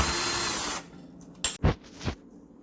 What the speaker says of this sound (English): I've used my drill, and I've just loosened these nuts